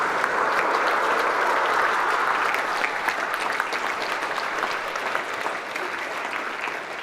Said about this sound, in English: I think we might recognise that with some applause right now.